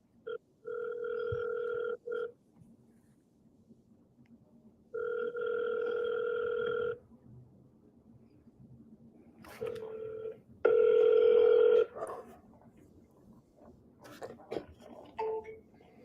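Outgoing phone call ringing out unanswered, four long ringback tones in a steady spaced cadence, the last one louder, with faint clicks and rustling between the rings.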